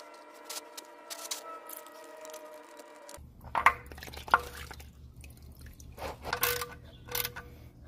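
Oil dripping as it drains from a Nissan 370Z oil filter housing, irregular drips and small splashes close by over a low background hum, with a brief tonal electronic sound at the start and no talking.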